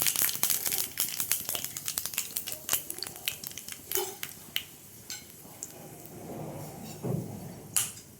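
Dried red chillies are torn and dropped into a small tarka pan with oil and mustard seeds, giving a run of quick, crisp crackles and snaps, dense at first, then thinning into scattered pops and a low sizzle.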